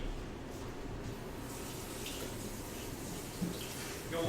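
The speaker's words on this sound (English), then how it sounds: "I'm going to rinse it off, get it nice and clean" A sink faucet runs while raw chicken is rinsed under it, giving a soft, steady stream of water with faint splashing and a brief clatter near the end, fairly quiet and without talk.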